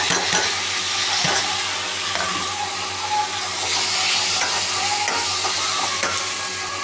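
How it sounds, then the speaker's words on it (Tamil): Onion, tomato and green chillies sauté in a pan for a sundakkai kara, giving a steady, close sizzle with the scrape and clatter of stirring running throughout. "இதில் நாம் தக்காளியும் பச்சை மிளகாவும் சேர்த்துப்போம் நண்பர்களே."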